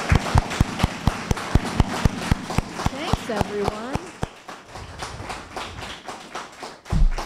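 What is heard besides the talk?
audience applause for Gabby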